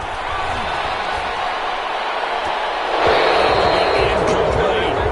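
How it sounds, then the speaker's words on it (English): A stadium crowd in the American football video game Madden 21 roars with steady applause for the defense in a Bills at Raiders game. The cheering swells louder partway through, with a commentator's voice over the crowd. "Some applause for the defense there."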